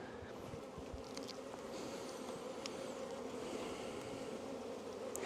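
Honey bees buzz steadily around an open hive during a full apiary inspection on a very hot day, a dense, continuous drone close by with no talking.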